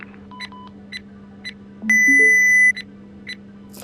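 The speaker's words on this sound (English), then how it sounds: "Verify the voltage detector's operation using the proving unit by placing its tip against the push button." A voltage detector pressed against its proving unit in a VR switchgear safety training simulation gives a series of short, clean electronic beeps, then one sustained tone of nearly a second, over a low steady hum.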